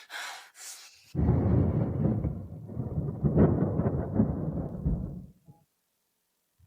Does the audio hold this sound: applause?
no